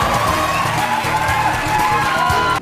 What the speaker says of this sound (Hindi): लोग खड़े हुए, सीटियां बजाई, तालियां बजाई और शाहरुख खान का अभिवादन किया।